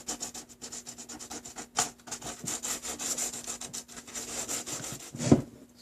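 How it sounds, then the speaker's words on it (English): Sandpaper scrubs the cracked plastic washer fluid reservoir of a 1995 Toyota Tacoma in steady, rapid back-and-forth rasping strokes, close and continuous for several seconds and ending in a brief knock. "let's start by roughening up the surface a bit with the sandpaper"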